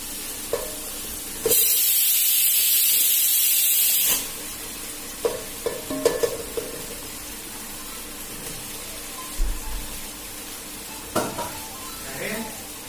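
Potato pieces go into sizzling masala with ginger-garlic paste for mutton dalcha, starting with a loud burst of hiss as they hit the hot oil, then scattered stirring clinks and scrapes against the pan.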